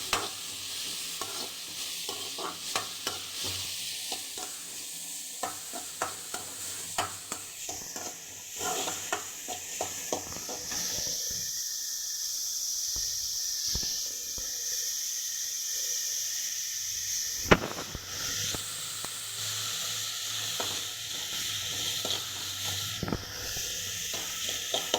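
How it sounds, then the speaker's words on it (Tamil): Shallots and onions sauté in a pan for veg momo filling, with a steady sizzle and frequent scraping stirs throughout, close and continuous with brief quieter stretches. "இப்போ இதை நல்லா வதக்கிக்கலாம்."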